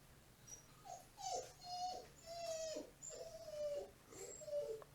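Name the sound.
dog in heat whimpering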